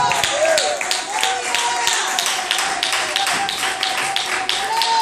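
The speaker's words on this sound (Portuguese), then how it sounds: "Palmas de glória a Deus." A church congregation claps in praise during a service, a steady run of sharp, fairly even claps that fill the room alongside voices and a sustained tone underneath.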